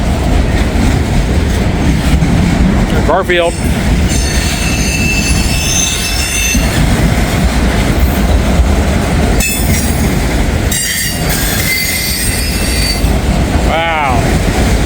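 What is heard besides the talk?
freight train carrying SUVs passing in Hamilton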